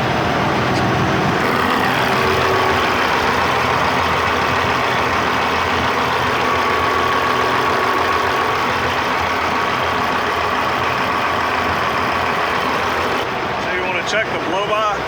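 A semi truck's diesel engine idles with a steady broadband rumble, close and continuous, while a voice talks over it and a faint whine runs underneath.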